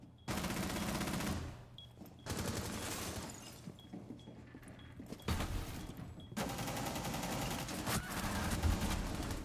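Bursts of automatic gunfire crack out in the tactical shooter Rainbow Six Siege, loud rapid strings of shots separated by short pauses, with glassy shattering among the volleys.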